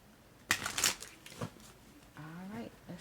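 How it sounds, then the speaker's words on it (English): A deck of tarot cards is shuffled and cut by hand, giving a quick riffle followed by softer slides and taps, with a voice talking partway through. "let me cut these cards and one more shuffle"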